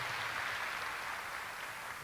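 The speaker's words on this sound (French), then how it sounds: "il mérite vraiment un tonnerre d'applaudissements" Steady applause from a conference audience, a dense even wash of clapping at moderate distance, with no voices over it.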